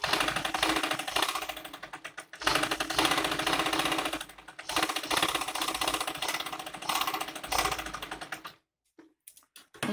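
A sewing machine stitches a Chanderi salwar in rapid, steady mechanical bursts with clattering needle strokes, pausing briefly twice before stopping near the end, close and alone.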